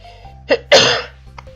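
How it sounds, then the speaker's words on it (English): One sharp, close explosive cough preceded by a short intake of breath, loud against a quiet background hum, from the game Stardew Valley. "Oh, I don't want to start coughing again."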